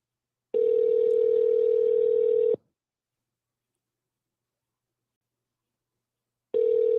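Telephone ringback tone while calling a restaurant, a steady two-second ring followed by a long silence, then the next ring beginning, clear and alone.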